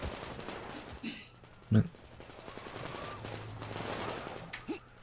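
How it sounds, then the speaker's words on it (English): Gunfire in the video game Metro Exodus, a few distant-sounding shots and bursts scattered across a quiet, rumbling ambience, with one sharper crack standing out, while someone speaks briefly. "I hear shooting."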